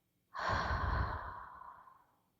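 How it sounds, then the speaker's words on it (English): One long, easy breath is let out through the mouth, close and soft. It swells quickly and fades gradually over about two seconds. "a long, easy exhale out your mouth"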